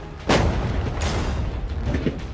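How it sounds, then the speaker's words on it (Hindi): Tank cannon fired in a firing-range test, one sharp loud boom followed by a second blast about a second later, each trailing into a rumbling echo. "पर पहले बाकी शॉट्स फायर कर लेते हैं।"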